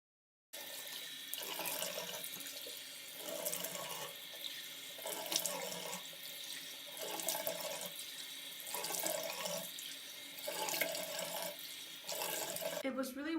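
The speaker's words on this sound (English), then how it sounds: "So I'm going to go ahead and wet my face" A bathroom sink tap runs while someone wets and rinses their face, with a steady close stream broken by repeated splashing surges as hands scoop water, about half a dozen in a loose rhythm.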